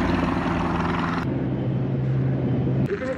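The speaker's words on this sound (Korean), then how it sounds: "어디선가 헬기가 나타나 분화구 안으로 쏙 들어갑니다." A helicopter flies down into a volcano crater in the 1967 James Bond film You Only Live Twice. It is a steady, loud rotor and engine drone that holds throughout, with a brief shift in tone near the end.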